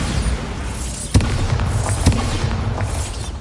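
Bombarda blasting spell from the Hogwarts Legacy video game, two sharp booming bursts about a second apart over a dense, steady rumble of background game audio.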